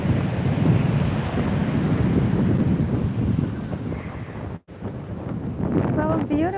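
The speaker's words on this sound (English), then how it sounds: "The ocean." Surf rolling in at Laguna Beach, a steady broadband wash of waves mixed with heavy wind buffeting on the microphone, with a brief dropout near the end and faint bird calls.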